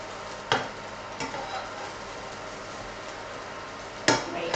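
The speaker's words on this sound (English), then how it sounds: "just pop them in a hot pan with a little bit of butter again" Food fries in butter in a hot pan with a steady low sizzle, broken by a few sharp utensil clinks and stirring scrapes near the start and end.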